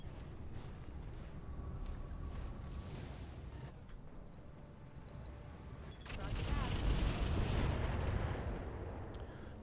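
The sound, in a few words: incendiary weapons firing in Battletech video game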